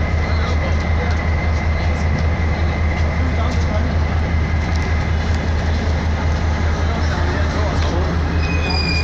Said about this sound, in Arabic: هذا القطار متجه من ديكرنس إلى المنصورة.